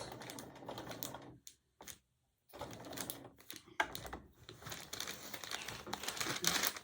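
A sewing machine stipple-quilts through fabric with a stencil, running in short bursts of rapid, close mechanical ticking separated by brief pauses and soft crinkling of the folded quilt.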